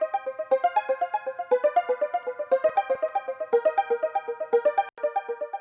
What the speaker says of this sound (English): And what I did was I added delay so that when I play it, it sounds like this.